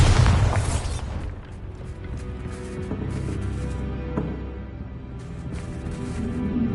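A Bombarda spell blast in Hogwarts Legacy, a loud booming burst at the start that settles into a rumbling game soundscape with smaller pops and thuds after it.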